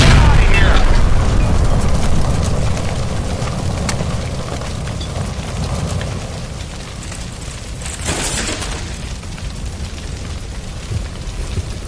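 A gas line explodes in the video game L.A. Noire, a loud deep boom at the start that decays into a long roaring rumble, with a sharp burst of debris or crackle later on.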